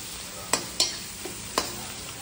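Onion browning in oil and butter for pav bhaji makes a steady low sizzle, broken by four quick spatula scrapes and taps against the pan.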